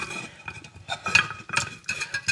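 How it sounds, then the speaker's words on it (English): A metal spoon stirs and clinks against a saucepan of coconut oil set up as a double boiler, giving irregular scraping taps and light chinks close by. "You continue to stir in until you get the particular result you want."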